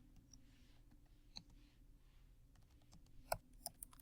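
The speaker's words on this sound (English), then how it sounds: "It's the keyboard." Typing on a computer keyboard, a few faint scattered clicks and key taps in a quiet room, with a short cluster of sharper clicks near the end.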